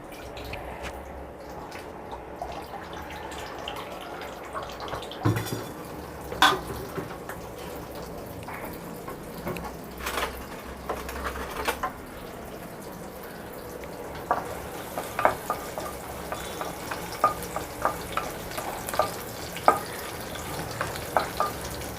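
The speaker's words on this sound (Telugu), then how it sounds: "ఇదండి వెల్లుల్లిపాయలు వేస్తున్నాను" Garlic frying in a pan while cooking a dal dish, a steady close sizzle with scattered pops and crackles that grow busier toward the end.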